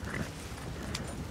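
Horses walk in Red Dead Redemption 2, with faint, soft hoof clip-clops scattered over a quiet, muffled background.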